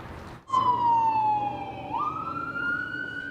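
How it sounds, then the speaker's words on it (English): Fire engine 193 wails down a township road on an emergency run, a loud close siren gliding steadily downward then rising again, with engine rumble beneath and no talk. "Engine 193 races down the road for an emergency."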